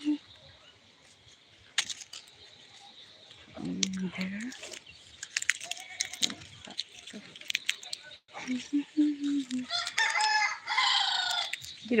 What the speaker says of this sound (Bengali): মুরগি তুই গাছে কিসের জন্যে